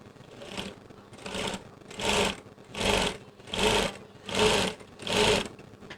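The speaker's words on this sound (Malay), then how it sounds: "Lepas tu kita jahit double Jahit lagi sekali." A sewing machine stitching a concealed zip in a second pass, seven even bursts of rapid needle chatter, each lasting about half a second with short pauses between them, close and clear.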